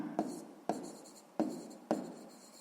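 Pen or pencil writing out a math solution on paper, four close scratchy strokes in a steady rhythm, each starting sharply and fading.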